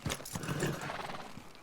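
Horse hoofbeats and a whinny from the video game Red Dead Redemption, fairly faint and continuous, a short stretch of movement.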